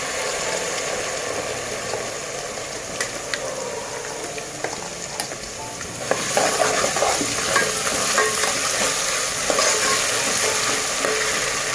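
Ground spice paste (vatan) fries in a hot pan for an Agri-style muthe kalvan curry. A steady loud sizzle is broken by scraping stirs and a few clinks, and it grows noisier and busier partway through.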